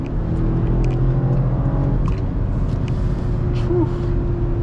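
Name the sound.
BMW X5 50i accelerating hard on a road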